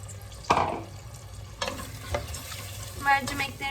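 Soaked lentils sautéed with browned tomato paste in a pot for an iftar soup, heard as a scrape and clatter of stirring followed by a steady low sizzle with occasional utensil knocks, close and moderately loud without talk.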